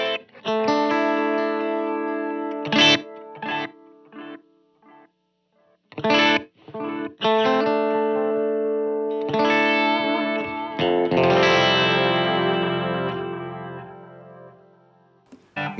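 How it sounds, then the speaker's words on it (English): Electric guitar through a long delay placed after the amp, with distorted chorus-tinged notes and chords whose repeats trail off behind each phrase, steady and fairly loud throughout. "Now, I also like to have a longer delay tone as well."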